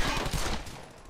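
Close, loud burst of rifle and machine-gun fire in the World War II video game Brothers in Arms: Hell's Highway, fading into quieter shots and rumble toward the end.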